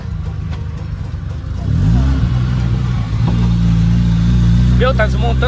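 An old car's engine drones and revs while driving, with a low rumbling hum that rises in pitch as it accelerates, loud and close, with voices talking over it near the end.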